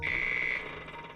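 An alarm sounds in the video game Return to Mysterious Island 2, a steady high electronic tone that holds for about half a second and then fades into a dense humming background.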